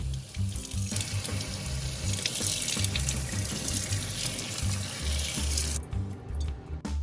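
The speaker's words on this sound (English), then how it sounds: "On day 1, thoroughly wash your seeds in a strainer." Organic broccoli seeds being washed in a strainer under a running kitchen tap, a steady close splash and rush of water that thins out near the end.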